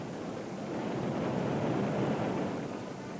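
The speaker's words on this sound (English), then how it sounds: "That waterfall." A steady, dense rush of falling water roars continuously, loud and broad, with no other sounds.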